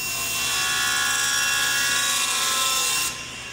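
A table saw rips through wood with a loud, steady high-pitched whine and cutting roar up close, which drops away sharply near the end as the cut finishes, no talking.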